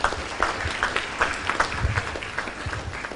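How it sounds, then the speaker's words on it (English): Auditorium crowd at a WordPress community event gives a short round of applause for the sponsors: scattered, moderately loud clapping with a few distinct claps standing out. "Final round of applause to all the sponsors"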